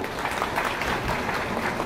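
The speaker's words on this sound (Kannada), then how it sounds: "ಬನ್ನಿ ಅವ್ರಿಗೆ ಒಂದು ದೊಡ್ಡದಾದ ಚಪ್ಪಾಳೆ." Audience applause at a Karnataka community stage event honouring Vishwakarma artisans, a steady, dense wash of many hands clapping throughout, fairly loud and even with no pauses.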